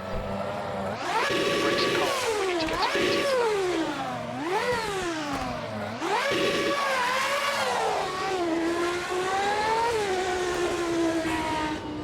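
A McLaren MP4/5B Formula 1 car with a naturally aspirated 3.5-litre engine in the Automobilista 2 racing game revs loudly and alone, its pitch sweeping up and down through several rises and falls before holding a high steady note.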